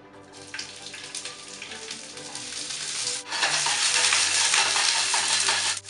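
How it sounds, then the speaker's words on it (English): Blanched asparagus warms in hot oil in a pan, sizzling steadily at first, then swelling into a louder, fuller crackle partway through, with soft background music underneath. "now I'm just going to warm them up in some oil"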